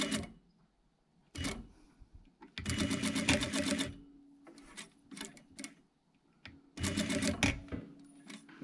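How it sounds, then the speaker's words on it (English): A sewing machine stitches across the top of a jacket vent in short bursts of rapid mechanical whirring, separated by pauses and small handling clicks, close by with no talking. "sew across the top of the vent"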